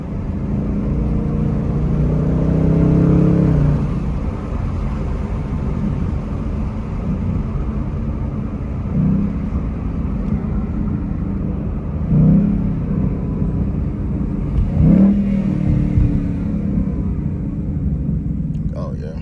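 A Ford Mustang S550 Mach 1 engine rumbles steadily while driving, with a few rising revs under acceleration, heard from inside the cabin beneath continuous conversation.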